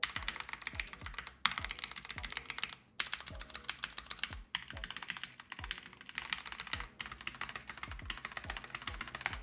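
Rapid, steady typing on a Wooting Two HE gaming keyboard with stabilizers, a dense run of crisp keystrokes clattering continuously with a few brief pauses, close and clear with no voices.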